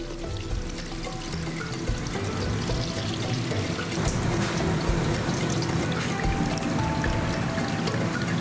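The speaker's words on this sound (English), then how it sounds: "enclose the shredded coconut in cheesecloth and squeeze out the essence along with the coconut water to obtain fresh and luscious coconut milk" Coconut milk squeezed from shredded coconut wrapped in cheesecloth, a steady close splashing and trickling of liquid that runs continuously throughout.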